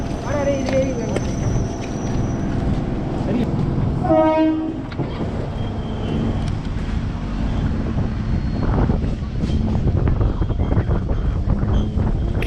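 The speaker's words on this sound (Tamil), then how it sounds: "அடுத்ததாக ட்ரெயின் இப்போ நிற்கிறது தான் இந்து காலேஜ் ரயில்வே ஸ்டேஷன்" A train rolls to a halt at Hindu College railway station near Chennai with steady rumbling and clatter, a horn blast sounding midway, and a voice speaking over the noise.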